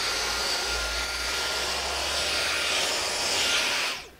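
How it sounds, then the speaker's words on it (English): A Dyson cordless vacuum cleaner in an RV runs steadily at close range with a loud, even broadband whir, then cuts off near the end; no one speaks. "Now you're vacuuming everywhere else."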